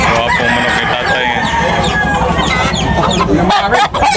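Roosters at a crowded poultry market crow and cluck loudly and close, several birds overlapping in a busy continuous din, with faint chatter of people in the background.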